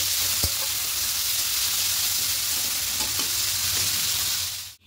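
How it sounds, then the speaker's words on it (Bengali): Potato and onion stir-fry in a pan with garlic and ginger, a steady, close frying hiss with occasional light scrapes, cutting off sharply at the end. "আলু পেঁয়াজ দিয়ে একটু ভাজা ভাজা করে নেব।"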